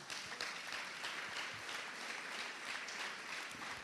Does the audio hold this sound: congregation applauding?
yes